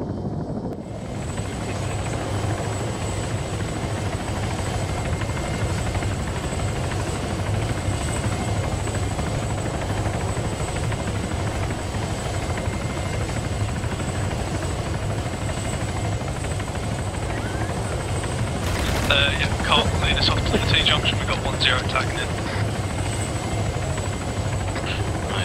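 Helicopter rotor and engine drone steadily and loudly throughout a military video game mission, with brief crackling bursts near the end.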